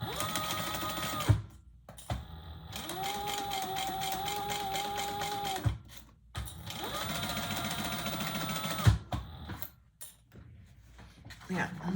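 A sewing machine stitches a seam on a fabric bag with a larger seam allowance, running in two long steady bursts separated by pauses and handling clatter, with a voice talking over parts of it.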